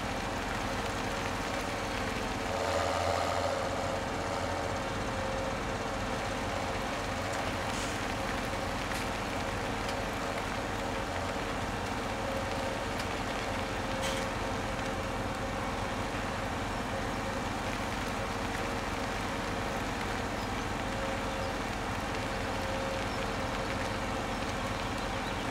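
Continuous drone of tractor engines in Farming Simulator 17, a steady low rumble with hissing noise throughout, unchanging in loudness, with no talk.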